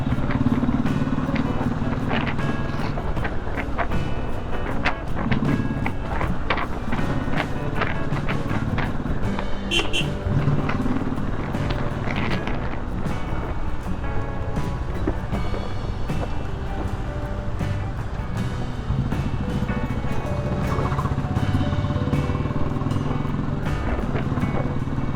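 A motorbike rides through Bangalore traffic, its engine rumbling steadily under wind noise and passing vehicles, with a rider talking throughout.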